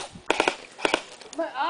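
Airsoft guns firing during a game in Hawaii: a few quick sharp pops in two short clusters, fairly faint, with shouting voices and chatter around them.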